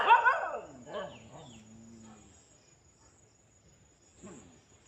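Several village dogs bark and howl together in a group, a loud, close burst at first that trails into fading wavering howls, then a brief renewed yelp near the end, with insects chirping faintly throughout.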